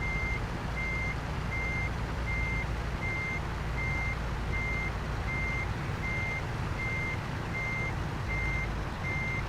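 In American Truck Simulator, a truck reverses next to another trailer, its reversing alarm beeping in a regular rhythm about every 0.8 seconds over a constant low engine drone.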